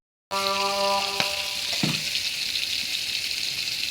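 Crab curry ingredients hit a hot pan with a sudden loud sizzle, then keep frying in a steady, dense crackle with a brief clatter partway through; no voices.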